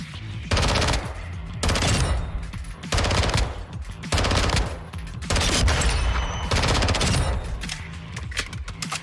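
A real shotgun fires in a series of loud, booming blasts, roughly five or six broad bursts spaced about a second apart, each with a short rumbling tail and no speech.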